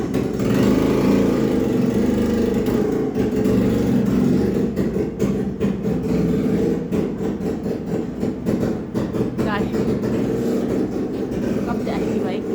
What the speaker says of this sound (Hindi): तो ये गाड़ी की आवाज़ थी